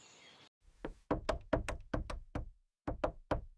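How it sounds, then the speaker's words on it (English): Gentle knocking on a wooden cottage door: one soft knock, then a series of distinct raps in small groups with brief pauses, close, clear and alone in a quiet room. "She knocked gently on the door and called out, as she always did."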